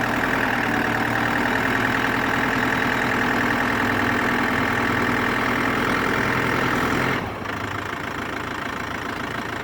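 A 2005 Hyster H80XM pneumatic diesel forklift runs close and loud with a steady rumbling engine drone as the mast raises, the tone then dropping to a lower idle.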